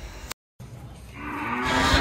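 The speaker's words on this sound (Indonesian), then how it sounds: "Ini untuk sapi pertama pedetan jantan simetal harga 12 setengah" A young Simmental bull calf at a cattle trader's gives a single short moo that swells toward the end, heard close and alone after a brief cut.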